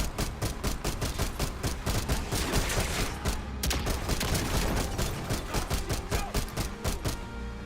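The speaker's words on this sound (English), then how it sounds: "it's the pistol with unlimited ammo" Rapid pistol shots with unlimited ammo in a video game, a dense, continuous volley of sharp cracks firing fast and evenly for several seconds, loud and unbroken, with no talk over it.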